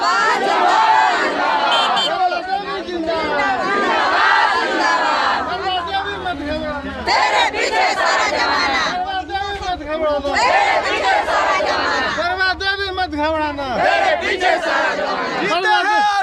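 A large crowd at a village political rally chants and shouts slogans together, a loud, dense roar of many voices that surges in waves and continues for the whole stretch.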